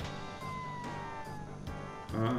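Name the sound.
cat meowing in video game Chrono Trigger DS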